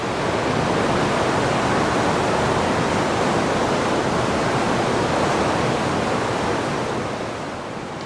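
Box Canyon waterfall in Ouray, Colorado, pours as a steady, dense roar of rushing water, loud and close, with spray and mist in the air. It holds evenly for most of the stretch, then eases slightly near the end.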